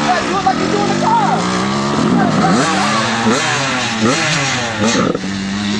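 A dirt bike engine revs and surges in rising and falling sweeps as a learner rider opens the throttle, loud and close, with someone talking over it.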